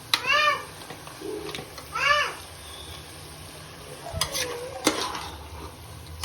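Vegetable pulao is stirred and fried in a pan, a steady low sizzle with scraping strokes and a few clinks, while a cat meows twice clearly nearby and a voice speaks briefly.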